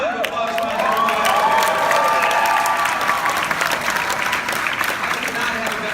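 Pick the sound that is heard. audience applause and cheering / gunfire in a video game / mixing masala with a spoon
audience applause and cheering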